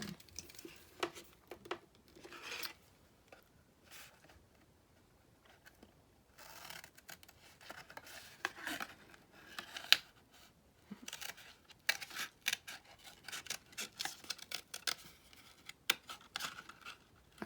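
Faint snipping and rustling of scissors cutting around paper up close, irregular cuts mixed with soft crinkling handling noises in a quiet room.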